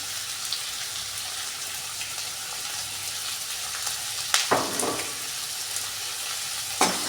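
Dry arbi (taro root) fries in oil for sukhi arbi, giving a constant bright, crackling sizzle. Two sharp scraping stirs of the pan break through near the end, and no one speaks.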